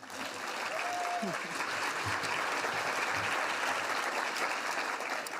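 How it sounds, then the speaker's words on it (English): Steady, sustained applause from a sizable crowd at an award luncheon, dense and even throughout, with a brief faint whistle near the start. "A round of applause one more time"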